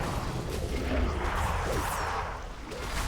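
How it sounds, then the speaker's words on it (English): An explosion in World of Warcraft during a Mythic Ny'Alotha raid: a broad, noisy crash and rumble that swells and lingers for a few seconds amid game effects. "I took an explosion."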